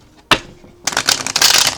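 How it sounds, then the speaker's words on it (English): A single sharp tarot card snap, a pause, then a brisk riffling shuffle of tarot cards, close and crisp, with no talking. "One more shuffle."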